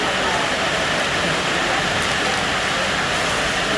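Heavy rain pouring steadily outdoors, a dense and continuous hiss at close range, loud and unbroken throughout.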